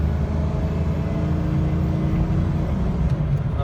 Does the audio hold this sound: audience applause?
no